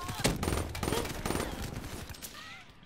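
Automatic gunfire in Black Ops 3 multiplayer, two weapons firing at once in quick overlapping bursts, moderately close and fairly quiet overall.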